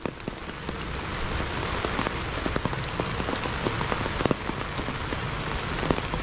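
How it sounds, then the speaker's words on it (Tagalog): Heavy rain pours steadily onto surfaces at a home construction site, a dense, constant hiss with scattered louder drops pattering close by, with no voices. "tas ang lakas pa ng ulan."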